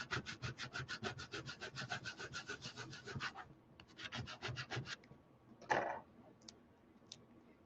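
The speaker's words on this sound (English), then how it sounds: "And then you can burnish it down." Transfer tape being burnished down onto a floating Christmas ornament, a quick rhythmic rubbing of about twenty strokes, a short pause, another burst of strokes, then a few isolated scrapes, close and alone.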